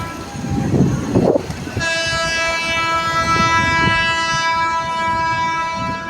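A train rumbles nearby at Dahod railway station, then a loud, sustained horn blares over the rolling noise of the cars; no speech.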